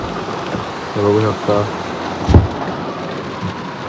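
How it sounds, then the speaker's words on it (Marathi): Heavy monsoon rain falls steadily with a loud constant hiss, and a brief heavier crack or thud-like burst comes partway through; someone talks briefly over the downpour. "आता पावसाने खूप जोर पाऊस आहे"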